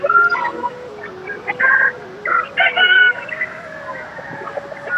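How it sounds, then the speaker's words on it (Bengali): Several native-breed chickens cluck and call in short bursts, close by, over a low background murmur. "এগুলো সব দেশি জাতের মুরগি"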